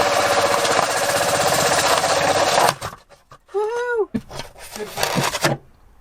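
A drill boring a hole for a composting toilet, a loud, steady grinding whir up close for nearly three seconds, then it stops and people talk and exclaim.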